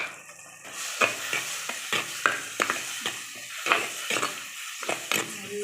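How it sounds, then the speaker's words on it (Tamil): Tomatoes with salt and turmeric sauté in a pan in village-style cooking: a spoon scrapes steadily through the mixture in regular, close strokes, while a soft sizzle runs beneath them. "நல்லா வதக்கிக்கலாம் ஃப்ரெண்ட்ஸ்"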